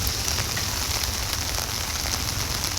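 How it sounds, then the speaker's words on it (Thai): Heavy rain pours steadily at Hat Yai junction during flooding, a dense, unbroken hiss of drops hitting surfaces, loud and constant throughout with no voices. "ฝนตกหนักขึ้นทุกวันทุกทีแล้ว"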